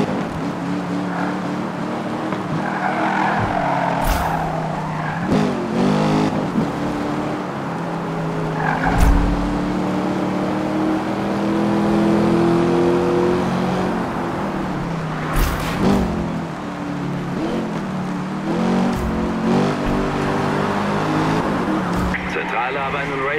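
Cars in a Need for Speed police chase race at high speed: engines rev and shift with rising and falling pitch, tires squeal and brief impacts crash through, while a voice speaks over police radio.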